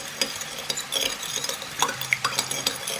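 Rice and soy sauce being stirred together in a bowl, a spoon giving off scattered, irregular clinks and scrapes over a soft, steady background, close by and with no talking.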